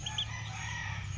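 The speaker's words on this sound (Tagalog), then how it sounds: "May manok oh." A chicken crows faintly in the distance over a steady low background hum, brief and quiet, with no voices in the clip.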